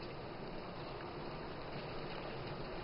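Chicken frying in a pan of simmering oil, a dense, constant close sizzle and crackle with no pauses and no voices.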